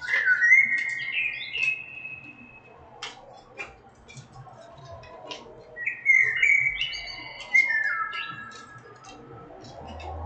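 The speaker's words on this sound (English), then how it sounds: "What are the birds saying?" Several birds chirp and whistle outdoors in repeated bright, rising and falling calls, clustered at the start and again near the middle, with light ticking and faint background noise and no talking.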